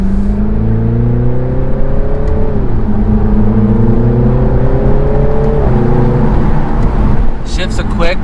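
2019 BMW Z4 sDrive30i with its 255-horsepower four-cylinder engine pulling hard, the note climbing loud and steady through a quick upshift, then rising again, with wind and road roar inside the cabin.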